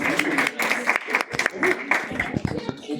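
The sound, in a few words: audience applause at a comedy show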